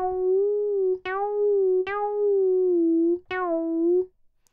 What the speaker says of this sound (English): pitch bend predictably lets you make expressive pitch bends, which sound like this on my current synth sound